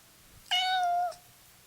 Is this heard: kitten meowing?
yes